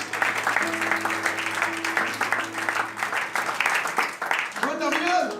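A church congregation claps steadily to acclaim the Lord, a dense, fairly loud wash of applause running under a voice speaking over it throughout.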